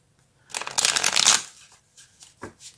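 Small tarot cards are shuffled by hand in a brisk riffle of dense, crisp fluttering for nearly a second, close and clear, then a few lighter taps and slides as the deck settles.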